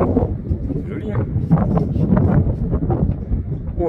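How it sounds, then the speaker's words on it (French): Cool coastal wind near Bonifacio on Corsica, clifftop setting, blowing steadily as a low buffeting rumble against the microphone throughout, with people talking over it. "Oh, et un petit vent frais par contre."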